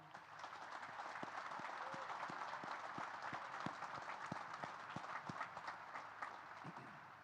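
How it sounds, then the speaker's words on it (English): Sustained applause from a large crowd at a naval academy graduation ceremony, dense steady clapping filling the whole stretch at an even level, with faint voices mixed in. "How about a big round of applause"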